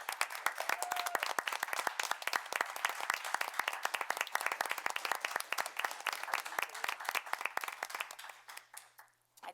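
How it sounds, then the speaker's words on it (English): Sustained round of applause from a town board meeting audience in December 2019, dense steady clapping for nearly ten seconds before tapering off to a few last claps. "So please join me in giving a round of applause to Nicole Hushler-Ray."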